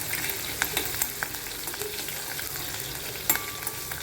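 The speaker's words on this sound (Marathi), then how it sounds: "जिरं तडतडली की मिरची टाकू आणि किंचित मीठ टाकायचं" Cumin and green chilli sizzle and crackle in hot tempering oil for a fasting bhagar dhokla, a soft, steady frying hiss dotted with sharp pops, with no voices.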